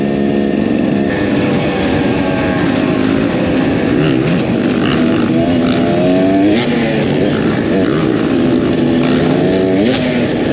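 A Beta 300 X trainer enduro motorcycle engine runs loud and steady throughout, with rising and falling revs producing a continuous buzzing drone up close.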